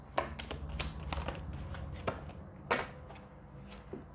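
A deck of tarot cards is shuffled in a string of quiet, close riffling taps and soft clicks with no talking, the brief bursts falling irregularly across a few seconds.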